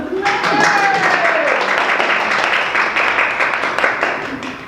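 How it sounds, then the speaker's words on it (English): Audience applause fills a college arts faculty lecture room as a visiting photographer is welcomed, a dense steady patter of many hands with a whistle and some voices mixed in, holding for several seconds. "I'd like to give a warm welcome and applaud to our wonderful Johnathan"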